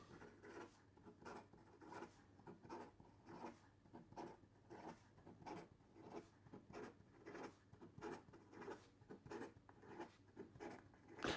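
Extra fine steel nib of a Platinum Procyon Luster fountain pen scratching quickly across paper, a soft, close, continuous rasp broken into rapid strokes with no voice over it.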